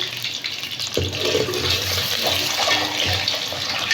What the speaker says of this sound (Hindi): फ्राई कर रहे हैं अंडों को